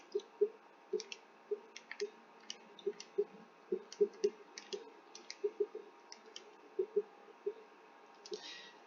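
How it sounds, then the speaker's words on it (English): Calculator keys pressed one after another while numbers are entered, a quick, fairly regular run of soft, close clicks at low volume with no talking. "bear with me while I substitute this in my calculator"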